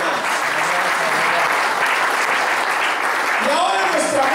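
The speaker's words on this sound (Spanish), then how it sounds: "Ofrenda de aplausos al Señor, hermanos." A church congregation at a Spanish-language service bursts into steady, sustained applause, a dense wash of clapping that holds at full strength throughout, with a voice starting up near the end.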